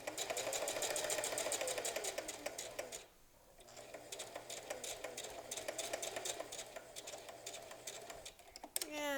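A sewing machine runs steadily for several seconds, stitching fabric for an infinity scarf, with a rapid mechanical whir that pauses briefly before resuming, close and fairly loud, with faint talk underneath.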